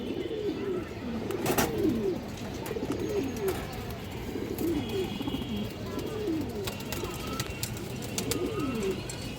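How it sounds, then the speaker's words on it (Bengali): Pigeons of running and flying breeds coo repeatedly at a loft, soft rolling coos arriving every couple of seconds close by, with faint clicks and rustles in the background. "রানিং ফ্লাইং এর কবুতর এই দেখেন"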